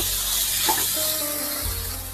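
Chopped tomato and coriander leaves tossed into a hot frying pan for achari dal, a steady close sizzle with a brief stirring scrape partway through.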